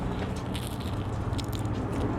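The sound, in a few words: biting into a crunchy, crispy fried taco shell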